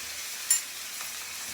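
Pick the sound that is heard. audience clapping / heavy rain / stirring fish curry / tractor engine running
stirring fish curry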